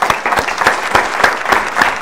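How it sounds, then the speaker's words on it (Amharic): Steady applause from a small group, continuous clapping with a slightly uneven rhythm, fairly close and loud, no voices over it. "አጨብጭቡላችሁ።"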